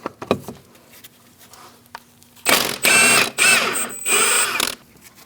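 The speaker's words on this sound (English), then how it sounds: "we're going to remove this nut and take it out of the knuckle." A ratchet with a 15mm socket works a nut loose on a 2000-2006 Mini Cooper steering knuckle, giving a few sharp clicks and then several loud bursts of rapid, close ratcheting.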